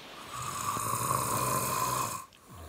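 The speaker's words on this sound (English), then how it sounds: "It's just a warning snore." A sleeping person snoring in bed, one long, rasping, fairly quiet inhaled snore lasting around two seconds before fading out.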